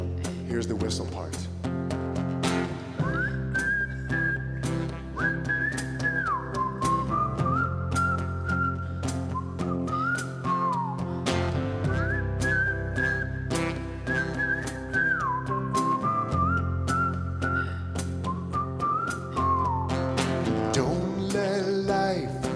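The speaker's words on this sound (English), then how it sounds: "Here's the whistle part." An audience whistles a melody along with a live song at a church gathering, a sustained tune of long rising and falling notes carried over accompanying music and singing voices.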